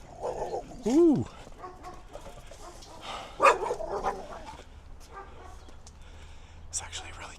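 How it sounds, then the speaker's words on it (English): A dog barks on a street in East Los Angeles, giving one sharp, close bark followed by faint, scattered street noise. A person talks quietly nearby. "It's actually a really cute dog."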